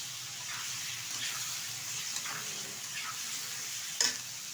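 Flat beans, eggplant, potato and tomato being stir-fried together in a pan for a Bengali dried-fish curry, giving a steady soft sizzle with occasional scraping stirs and one sharper clack near the end.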